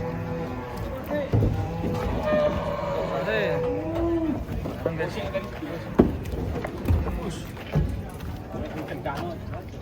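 Cattle being unloaded from a truck, giving several loud, drawn-out moos nearby among hoof knocks and clatter, with people talking over them throughout.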